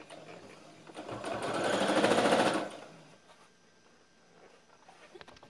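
A sewing machine stitches the folded waistband of a salwar, its rapid mechanical whir rising and swelling for a couple of seconds, then dropping away to quieter handling noise.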